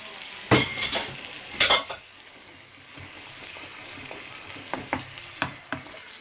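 Marinated beef sauce for Filipino beef steak sizzling in a frying pan, with a few sharp bursts of spatter and clinks of utensils early on, then a softer steady fry with light tapping, close by and no talking.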